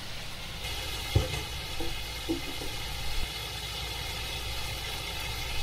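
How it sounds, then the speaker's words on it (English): Chicken pan-frying in olive oil sizzles steadily in a skillet under a constant background hum of a fan, with a few faint clinks. "there's a lot of sizzle going on in the skillet"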